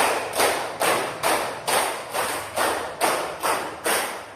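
Ten sharp, evenly spaced hand claps in a classroom, two runs of five with a steady beat, loud and close with no talking.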